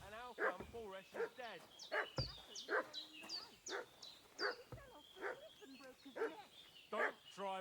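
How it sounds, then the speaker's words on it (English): A dog barks and yips repeatedly in a rapid, uneven run of sharp, fairly close barks set in the Kingdom Come Deliverance II video game world. "What's that dog making such a fuss about?"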